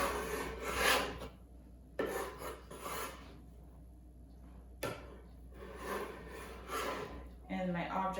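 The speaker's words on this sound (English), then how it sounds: "Gotta wet my hands, wet the bench scraper. So I think turn and scrape towards me." A wet bench scraper scrapes and drags sourdough across a bench in repeated soft rasping strokes, close up with quiet breaks between them.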